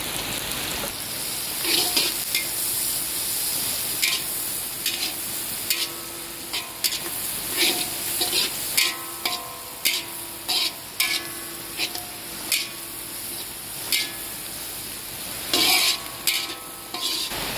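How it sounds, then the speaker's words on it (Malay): Finely minced meat sizzles steadily in a hot pan while a utensil scrapes and stirs in irregular bursts, close and fairly loud. "tumis dulu biar dia naik bau"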